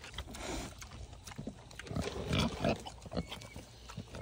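Small pigs at an animal sanctuary grunt and snuffle close by in a run of low, rough bursts, with no talking over them.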